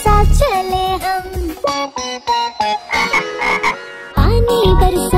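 Croaking frog sounds from a Hindi children's rain song, loud and rhythmic, with several bursts that start and stop in quick succession and are layered with music-like tonal content.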